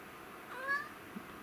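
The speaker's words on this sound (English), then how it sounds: "Oh, there's a cat also." A cat nearby in a workshop gives one faint, short meow midway through an otherwise quiet room.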